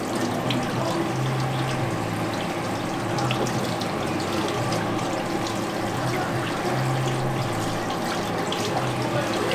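Water runs steadily from a sink tap at a glass-washing sink while someone washes their hair, a continuous splashing rush that stays close and even throughout.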